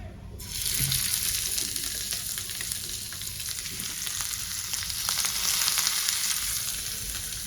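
Rohu fish pieces drop into smoking-hot oil and fry with a loud, continuous close-up sizzle that starts abruptly and holds steady throughout, with no talking.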